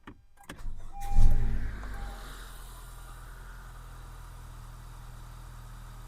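A car engine cranks and catches, revs briefly, then settles into a steady low idle during a battery charging test, close and without talk.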